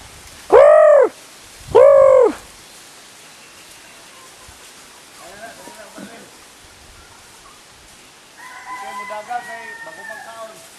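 Two loud, hooting calls from chickens ring out close together, followed by softer clucking and chatter in the background with some voices.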